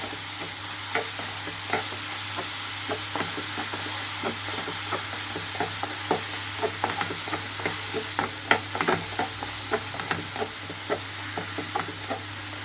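Raw onions get stirred through a hot tempering in a pan for raw banana curry. A spoon scrapes and taps in an uneven, steady rhythm over a continuous close frying sizzle, with no one talking.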